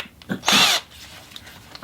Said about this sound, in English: I just decided to go ahead and freehand drill these